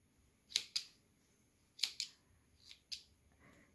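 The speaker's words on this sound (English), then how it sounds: "this little scissors I cut thread with, so it's not doing too good with the yarn" Small thread scissors cut through yarn in several quiet, crisp snips, mostly in close pairs spaced a second or so apart, with a soft rustle at the end.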